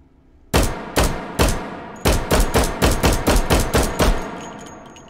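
An 11mm parabellum USP Match pistol fires in the virtual reality game Hot Dogs, Horseshoes and Hand Grenades, with about thirteen sharp, loud shots. Three come at a steady pace, then the rest follow in a quicker string.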